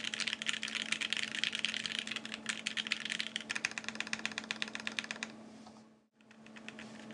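Steady, fast clatter of mechanical keyboard keys with thin PBT keycaps, close and dense, with a brief pause near the end before typing resumes; a low hum runs underneath.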